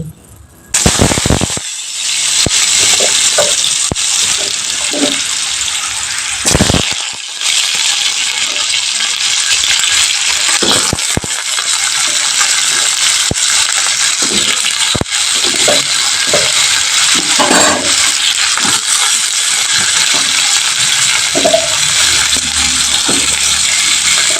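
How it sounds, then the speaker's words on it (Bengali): Chopped beetroot and potato pieces drop into hot oil with black cumin, setting off a loud, sustained sizzle punctuated by clattering stirs and scrapes of a spoon against the pan. "কেটে রাখা বিট আর আলুটা এক এক করে আমি তেলের মধ্যে অ্যাড করে দিচ্ছি"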